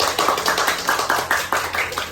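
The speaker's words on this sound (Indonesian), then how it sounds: "tepuk tangan dulu untuk kelompok 1" A classroom of students clapping for a group after its presentation, a steady, even-tempo rhythmic clap of several hands in unison at moderate loudness, heard alone with a faint background hum.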